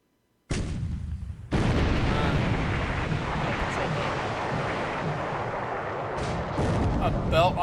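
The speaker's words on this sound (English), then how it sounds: "A belt armor hit from a 14-inch." Heavy naval gunfire in a WWII naval strategy game, ending in a 14-inch shell striking a warship's belt armor: a sudden loud boom followed by a dense, sustained roaring rumble with crackling bursts that carries on for several seconds.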